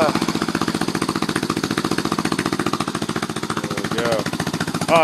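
A Yamaha Warrior 350 ATV engine with a Power Bomb header and a 36mm Mikuni flat-side carb runs nearby with a fast, steady, thumping exhaust pulse throughout, briefly rising near the end.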